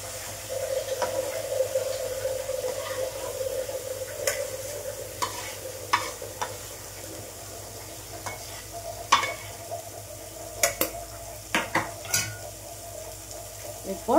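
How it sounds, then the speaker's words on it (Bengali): Mushrooms frying in a pan, a soft continuous sizzle up close with scattered scrapes and taps of a spatula stirring, no speech. "আমি এরমভাবেই মাশরুমটাকে একটু ভেজে নেব।"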